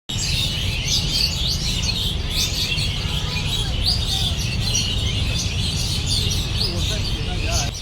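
Birds chirp and tweet in a busy chorus outdoors, with many overlapping calls over a constant low rumble of background noise.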